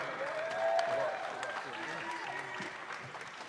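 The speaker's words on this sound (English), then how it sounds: "give a big round of applause for none other than Floyd Mayweather." Crowd applause at a post-fight boxing press conference for Floyd Mayweather and Conor McGregor: a steady wash of clapping fills the room at moderate, even loudness, with some voices mixed in.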